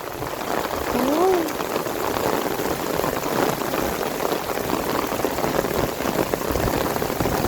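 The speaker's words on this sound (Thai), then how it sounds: "ฝนตกหนัก" Heavy rain pours down in a dense, constant hiss during a folk boat race, close and loud throughout, with a brief voice-like tone early on.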